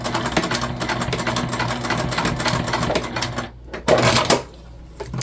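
Sewing machine stitching a strap onto the top of a small backpack, a steady close rattling run of rapid needle strokes that stops briefly, then a short burst of stitching resumes.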